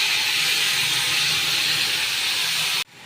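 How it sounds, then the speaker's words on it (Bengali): Water hits a hot pan of chili chicken, raising a loud, steady steam hiss that holds evenly and then cuts off abruptly just before the end. "একটু সামান্য জল দিয়ে দিচ্ছি"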